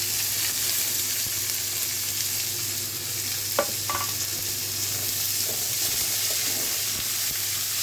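Sliced onion sautéing in oil with curry leaves and garlic keeps up an even, close frying hiss, with a couple of brief utensil taps partway through and no one speaking.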